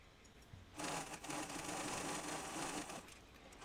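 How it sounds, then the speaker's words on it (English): Sewing machine stitching two pieces of fabric together, running over the pins in the seam: a steady, fast whirring hum after a brief quiet start, close but fairly soft, with no talking. "now I'm just sewing those two together"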